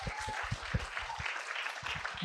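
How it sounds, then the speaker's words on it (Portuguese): A brief smattering of handclaps from a small audience after a talk, fairly quiet and sparse, ending with a louder thump. "merece uma salva de palmas, né?"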